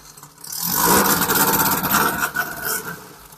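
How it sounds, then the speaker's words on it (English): An engine on a vehicle just back from a Super Baja desert race cranks and catches, then rises into a loud revving run before settling into an uneven idle close by. "It's gonna crank right up"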